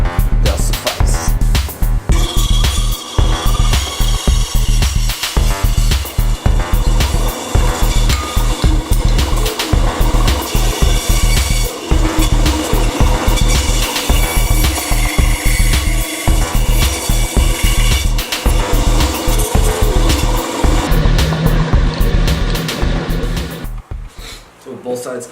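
A bandsaw cuts through wood for a DIY mug rack, giving a loud, steady rasping buzz that runs close and continuous for about 23 seconds before tapering off at the end.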